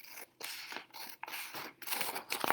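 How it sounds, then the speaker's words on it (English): Small scissors cut a line out of paper, making several quick snips and crisp scraping strokes close to the microphone. "So then I take my little scissors"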